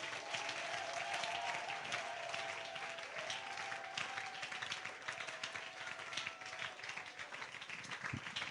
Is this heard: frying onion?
no